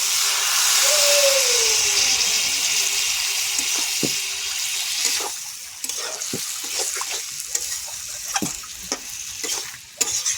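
Water goes into a pan of fish curry made with small rohu-type fish, cauliflower and potato. A steady loud sizzle and hiss fades as the liquid settles, and scattered clicks and scrapes from stirring follow.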